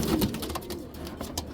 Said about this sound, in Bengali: এগুলো হলো বিআরপিএল ক্লাবের কবুতর।